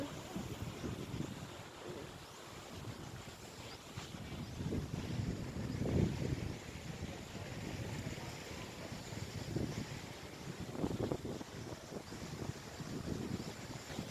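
Gusty sea wind buffets the microphone in uneven surges, with a low rushing roar and faint waves beneath.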